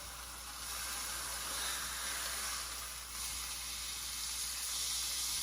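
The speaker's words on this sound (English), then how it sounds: "You're gonna wanna hear that sizzle." Steak searing in a hot pan gives a steady, close hiss and sizzle that holds evenly throughout with no talking.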